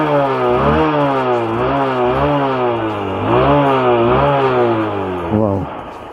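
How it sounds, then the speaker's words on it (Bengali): A Hero Hunk 150cc motorcycle with 6,700 km on it runs close by, its engine revved up and eased off in repeated swelling pulls before settling and dropping near the end. "হচ্ছে ইঞ্জিনের একটু সাউন্ড আর শোনায়।"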